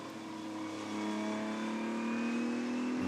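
Race cars lapping the Spa-Francorchamps circuit during Le Mans Cup qualifying, a steady engine drone with rising revs as a car builds speed, moderately loud and continuous without speech.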